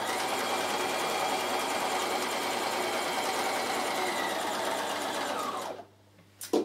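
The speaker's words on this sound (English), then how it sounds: "Needle up, stitch number five, bar tack across the bottom, and then stitch number six locks off and stitches up the side." A Bernina 1008 sewing machine stitches a bar tack across the bottom of a buttonhole, running in a loud, continuous rapid whir for several seconds before stopping, followed by a short click.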